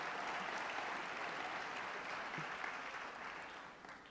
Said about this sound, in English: Let's give him another round of applause, President Bogner